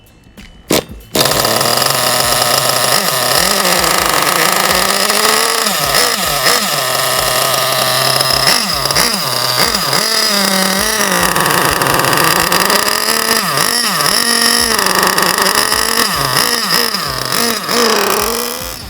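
A small nitro model engine runs rich during break-in, a loud, continuous gurgling buzz that wavers in pitch as it idles on a bench, sputtering briefly at the start before settling.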